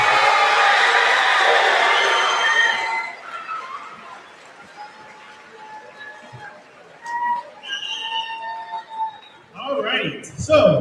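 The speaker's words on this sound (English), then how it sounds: "let's just give one more round of applause for all our graduating 8th graders here" Applause for graduating 8th graders at a school graduation ceremony swells as a dense crowd roar for the first few seconds, then fades out, followed by scattered whistles, cheers and chatter.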